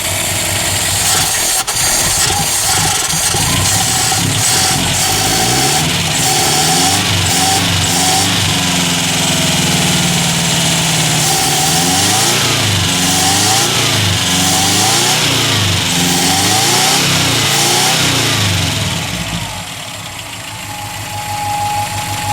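A 1981 Subaru EA81 engine, run on a little choke with good oil pressure, cranks, fires and idles, then revs up and down repeatedly in a loud, close, continuous roar before settling lower near the end.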